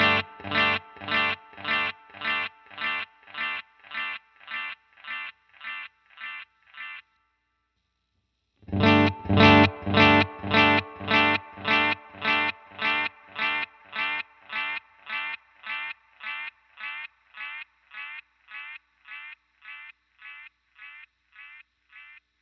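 Repeated single notes from an electric guitar run through a JHS Tape Delay pedal, first dry and steady, then after a short gap with the flutter on, each pick pulsing rhythmically with wobbling, echoing repeats that slowly fade.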